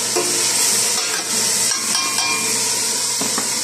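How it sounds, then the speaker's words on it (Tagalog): Steady loud sizzling and hissing of meat frying in a pan, with occasional clinks and scrapes of a utensil, no talking. "Tapos lalagay na natin ang ayan guys, ang ating karne."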